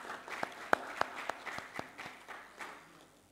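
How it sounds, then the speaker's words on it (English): Sparse, scattered claps from a small audience at a live-streamed meeting in Nigeria, a handful of distinct hand claps ringing out one after another and fading, faint and echoing in a room. "Can you give yourself a round of applause"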